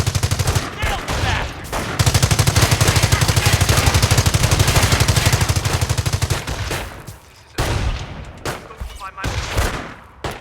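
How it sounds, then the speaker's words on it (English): An artillery strike in the game Company of Heroes, heard as a loud, sustained rapid barrage of blasts and gunfire that drops off briefly, then returns in heavy bursts, close and dominant. "Use the Artillery Strike ability to defeat the German attack."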